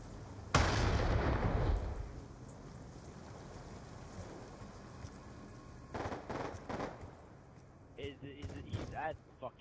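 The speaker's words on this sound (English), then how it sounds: "That's an evil shotgun." A single loud, booming shotgun blast in a video game rings out near the start and decays over a second or so, followed later by fainter clattering sounds and speech.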